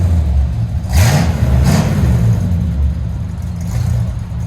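Close, steady exhaust rumble from a 1972 Chevy C10 long-bed pickup with a 350 V8 and Flowmaster Flow FX exhaust, broken by two sharp revs early on and a softer blip near the end.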